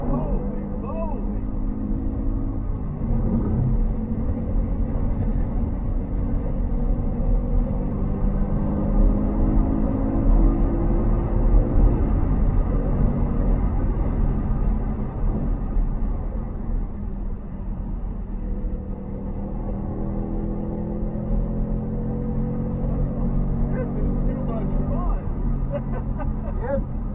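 A 2021 Ford Mustang Mach 1 on the Road Atlanta track, heard from inside as a continuous loud engine drone whose pitch climbs and falls with the throttle, while people talk over it.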